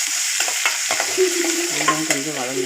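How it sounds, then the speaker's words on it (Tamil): Shallots, garlic and dried red chillies sizzle steadily in hot oil, with a few scraping stirs cutting through the constant close crackle. "இப்போ சின்ன வெங்காயம் பூண்டு சேர்த்துக்கலாம். அது கூட சின்ன வெங்காயம் 2 வரமிளகாய் சேர்த்துக்கலாம்."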